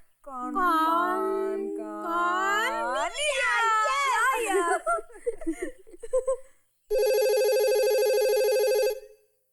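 A voice sings and speaks in a wavering tone, followed by a steady electronic ringtone buzzing for a few seconds.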